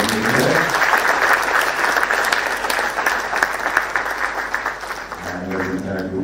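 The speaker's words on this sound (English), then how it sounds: "this time again with a loud round of applause" An audience at a medical oration on surgery gives a loud, sustained round of applause, dense clapping that fills the room and begins to thin out toward the end.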